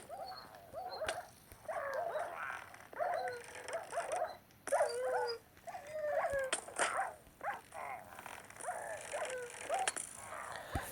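Repeated dog barks and yips in Minecraft, several dogs overlapping in quick bursts during a raid on a pillager base, with whimpering tones and clicks, moderately close and continuing throughout.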